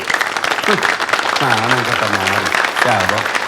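A crowd at a public gathering gives steady, continuous applause throughout, while a voice speaks over the clapping.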